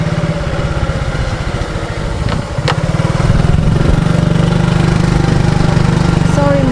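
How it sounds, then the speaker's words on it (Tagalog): A motorcycle engine chugs steadily and loudly, close up, while riding over a bumpy, potholed rural road in Pangasinan, with a jolt partway through before the engine revs up. "Sorry motor, nahirapan ka tuloy sa lubak."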